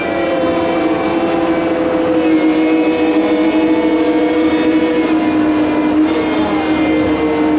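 A Volvo motor grader drives along steadily, its engine droning loud and close with a continuous tonal hum and rumble that holds constant throughout, not at full throttle.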